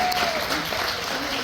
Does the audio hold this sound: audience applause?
yes